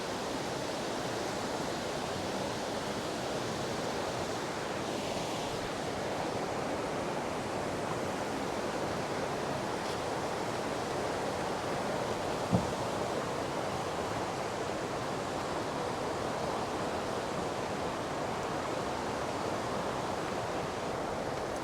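Constant loud rushing of river water, a dense unbroken roar that holds steady throughout.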